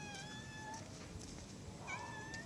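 A cat meows twice, a drawn-out cry and then another shortly after, fairly faint against a quiet background hum.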